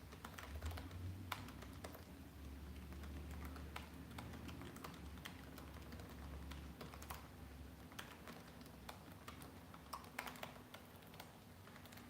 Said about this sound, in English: Pardon my typing time here